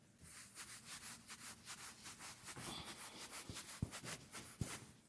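Turtle Wax Renew and Restore wipes rubbed across a surface in steady back-and-forth strokes, a soft, rhythmic scrubbing close by, with a couple of sharper taps near the end.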